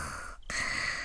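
A soft, subtle snoring breath from a sleeping character in the visual novel game Higurashi, one drawn inhale-like rasp broken by a short pause, heard alone.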